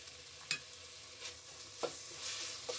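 Ginger garlic paste and turmeric fry in a pan for sambar, a faint steady sizzle broken by a few sharp spatula scrapes and clinks against the pan, with no talk.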